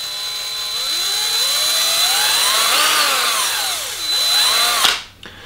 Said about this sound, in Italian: la battuta quando io lascio di colpo, sentite, questo rumore non mi fa impazzire sinceramente